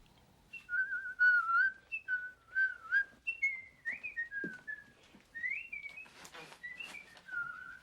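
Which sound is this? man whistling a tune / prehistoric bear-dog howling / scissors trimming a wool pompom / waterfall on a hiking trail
man whistling a tune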